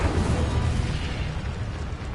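Incendio fire spell cast in Hogwarts Legacy, a loud roaring burst of flame and explosive whoosh sustained across two seconds, heard alone.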